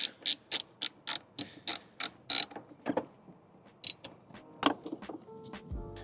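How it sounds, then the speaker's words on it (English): A ratchet tightens a bolt on a Mustang GT intake with quick, sharp clicking strokes in a steady run, then slower scattered clicks and metal clinks, close and without talk. "Now we can bolt down that bolt we took out last time so it can be secure"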